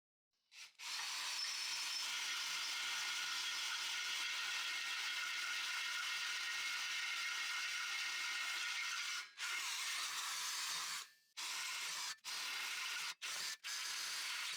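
An Evolution R13CMB-Li cordless drill driver drilling a hole runs in long, steady whining bursts that begin and stop sharply, with a few short pauses and quick restarts near the end, close and fairly loud, no talking.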